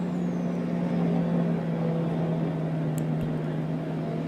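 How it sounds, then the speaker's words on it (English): A truck engine drones steadily while driving, a low constant hum with a strong tonal buzz at road speed, one brief sharp click partway through, and no talking over it. "this thing just sounds so good. Yeah, I really love this truck."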